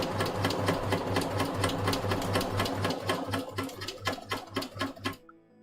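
A sewing machine stitches a waistcoat in rapid, even bursts of mechanical chatter close by, slowing into separate stitches near the end before stopping into silence.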